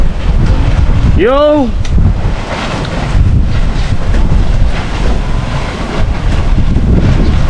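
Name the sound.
strong wind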